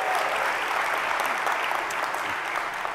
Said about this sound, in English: applaud a little louder for them